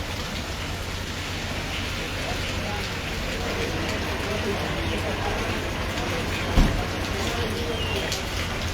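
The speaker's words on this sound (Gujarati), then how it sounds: "સતત વરસાદ વરસી રહ્યો છે" Steady, loud, continuous rain pours down on the Halvad–Morbi highway road near a bus stand, a dense hiss throughout with one brief thump, as a voice talks over it.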